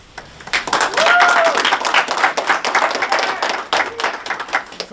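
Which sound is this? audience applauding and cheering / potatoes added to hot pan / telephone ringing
audience applauding and cheering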